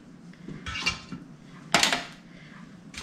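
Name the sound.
beef bones placed into a kettle with tongs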